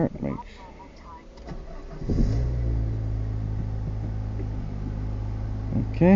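A 2004 Acura RSX with a faulty solenoid cranks briefly and starts, then settles into a loud, steady idle up close, with speech around the start.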